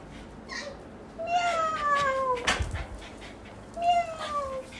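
A person imitating a cat's meow, three drawn-out mewing calls with falling pitch, fairly close and clear in a quiet room.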